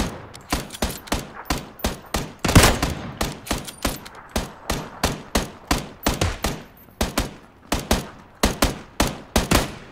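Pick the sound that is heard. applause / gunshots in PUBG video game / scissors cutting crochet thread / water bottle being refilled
gunshots in PUBG video game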